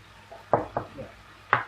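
Food being mixed in a pot while cooking at home: a few sharp clinks and scrapes of a utensil against the pot, close and irregular, with quieter shuffling between them.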